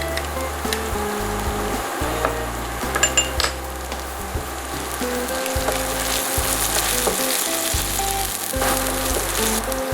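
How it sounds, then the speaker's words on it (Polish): Chopped garlic and chili frying in two spoons of olive oil in a pan, a loud close sizzle with repeated scraping and knocking of a utensil against the pan. "Na patelni rozgrzewamy dwie łyżki oliwy. Dodajemy posiekany czosnek. Papryczkę chili."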